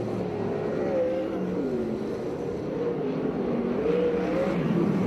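USAC/CRA sprint cars race on the dirt oval at the So Cal Fair in Perris, California, their engines roaring steadily with rising and falling whines as the pack sweeps past, loud and continuous throughout.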